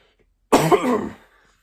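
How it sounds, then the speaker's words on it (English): One short, raspy throat clearing sounds up close after a moment of silence, then trails off. "clear my throat"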